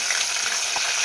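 Mustard seeds, cumin and dried red chillies sizzle and crackle steadily in hot oil in a bowl on a stove, a loud, continuous close-up frying hiss with a faint stirring clunk.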